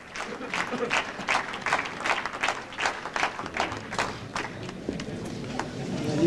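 Applause from an audience at a poetry recital, a steady run of claps at moderate volume that continues without a break.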